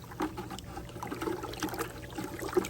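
Intex pool winterizer chemicals being stirred into a container of water, a soft continuous sloshing and trickling with light swirling splashes, close and fairly quiet, no talking.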